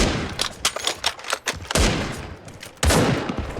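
AWP sniper rifle shots fired without scoping in the Turkish first-person shooter Sabotaj, several loud sharp cracks amid scattered gunfire, with two heavy booming blasts standing out near the middle and end.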